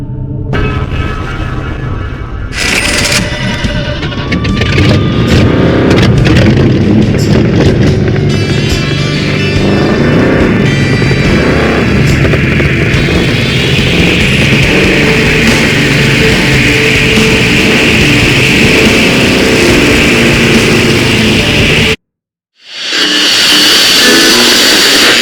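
Car engine in the video game Heading Out, revving and droning loudly and continuously for about twenty seconds with rising whines, then a brief silence before the engine noise returns.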